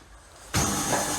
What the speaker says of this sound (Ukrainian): І евакуатор зараз виїде спокійно.